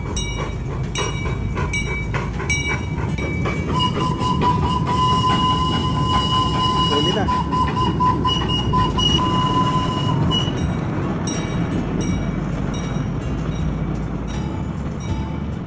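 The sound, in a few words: old mini steam train running in park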